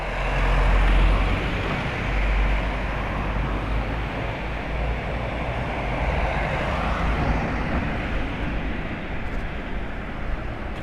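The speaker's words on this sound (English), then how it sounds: "let these cars go past" Cars roll past on a narrow street in Paphos Old Town, Cyprus, a continuous close wash of engine and tyre noise that swells at the start and then holds steady.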